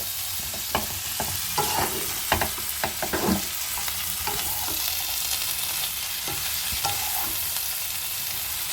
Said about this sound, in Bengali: এবার ভালোভাবে মশলার সাথে মিশিয়ে নেব